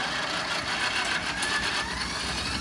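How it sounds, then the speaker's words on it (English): A 4-cylinder, 4-stroke V4 pony motor engine that had not run for a long while, running with a steady, fairly loud mechanical drone and a faintly rising whine. "The 2-cylinder engine, or the the 4-cylinder V4 engine pony motor that starts the"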